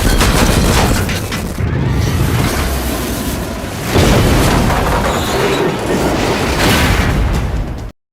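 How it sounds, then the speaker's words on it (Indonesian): Explosives going off in an underground tunnel, heard as a sustained loud roar of rumbling blasts and debris that carries on without a break before cutting off abruptly at the end. "segera mengaktifkan bahan peledak"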